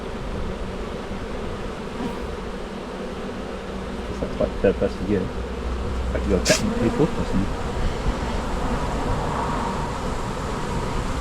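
Honeybees from a colony being cleared out of a bin hum in a thick, continuous drone, with single bees zipping past the microphone. Someone talks briefly over the buzzing.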